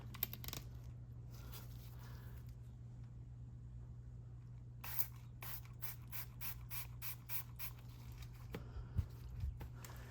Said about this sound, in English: I spray the cleaner into the brush.